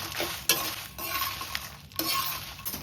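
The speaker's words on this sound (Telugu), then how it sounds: "మిరపకాయలు వేపినప్పుడు ఎక్కువ ఘాటు వస్తాయి కాబట్టి సన్న ఫ్లేమ్లో పెట్టుకొని వేపుకోనాలి." Dried chillies dry-roasting without oil in a pan over a low flame for rasam powder, with a steady soft sizzle and scraping stirs repeating every half second or so, close and alone.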